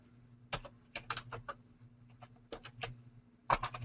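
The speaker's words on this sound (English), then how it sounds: "Oops, man, I really cannot type today." Keys clatter on a computer keyboard in quick bursts of clicks separated by short pauses, fairly faint over a steady low electrical hum, with no talking.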